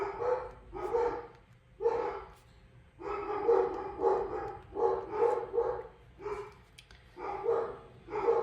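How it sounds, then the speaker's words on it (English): Dogs barking in quick repeated bursts, several barks close together then short pauses, loud and near with no talking over them. "They bark at anything and everything."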